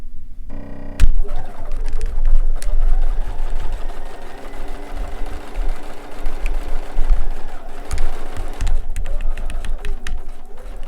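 A sewing machine runs steadily close by as it stitches around fabric, starting after a brief pause and humming with a continuous motor drone and rapid needle clatter, briefly slowing near the end.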